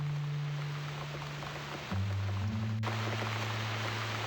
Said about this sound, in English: Loving that rain.